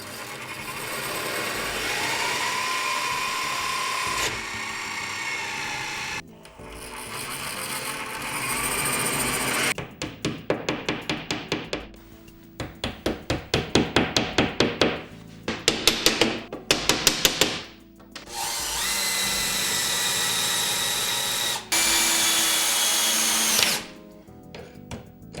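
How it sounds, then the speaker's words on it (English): A power drill bores holes in a bathroom wall to mount a floating vanity. It whines in loud, sustained bursts separated by short pauses, with choppy pulsing stretches in the middle as the bit bites in. "Now we can remove the vanity and make the drills."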